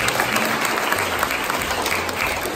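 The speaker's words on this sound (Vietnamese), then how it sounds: "xin một tràng pháo tay để mừng chị Phượng." A church congregation at an Easter celebration breaks into applause, a full, steady wash of many hands clapping together, fairly loud and sustained throughout without pause.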